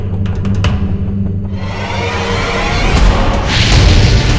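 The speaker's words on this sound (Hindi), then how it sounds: "अब दिवाली के पटाखे कौन फोड़ रहा है बाहर?" Several sharp booms and crackling bursts of Diwali firecrackers early on, then a dense roaring rumble that builds and swells, loud and close, with no voices.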